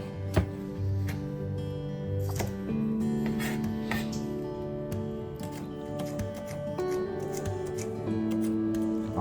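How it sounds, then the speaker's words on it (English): Knife chopping green onions on a cutting board, irregular sharp taps and cuts scattered over a droning background of music. "Take off some of that already messed up stuff and just give it a good chop."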